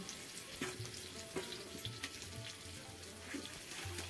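Bangda mackerel fish frying in a pan in a Konkan home kitchen, a soft steady sizzle with occasional clinks and faint background noise, no talking.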